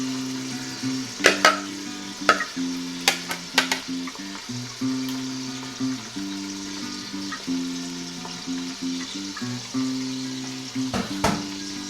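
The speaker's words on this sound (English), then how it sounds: "tomatoes and green chilies which we blended needs to be fried well with these onions" Blended tomato and green chili frying with onions in a pan for kofta curry, a steady close sizzle with occasional stirring clinks, under a low sustained musical tone.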